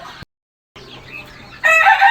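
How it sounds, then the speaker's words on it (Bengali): Farm chickens kept alongside broilers give short clucking calls close by, with a silent gap early on, then a louder, sharper crowing burst at the end. "এখানে আছে মুরগিগুলা তো এই যে দেখুন আল্লাহ রহমতে এখানে টাইগার দুইটা মুরগি আছে"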